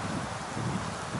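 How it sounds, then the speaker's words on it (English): Wind blows steadily across a lakeside campsite at Little Tupper Lake, a continuous broadband rush with no talk during the brief moment. "The wind has picked up, the sun is gone."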